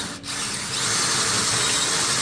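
A power drill with a blunt bit drills through metal, whining at a steady high pitch, grinding continuously and loud after a brief start.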